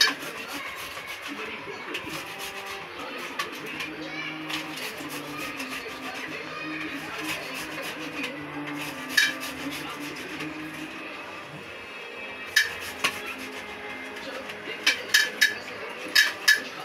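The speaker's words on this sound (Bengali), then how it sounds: "আমি আদা রসুন পিষে নিচ্ছি ছোট একটা ঘিসার মধ্যে" Ginger and garlic are ground in a small grinder for a prawn and pumpkin ghonto. Rough rasping and rubbing continues throughout with occasional sharper knocks, and a voice talks intermittently over it.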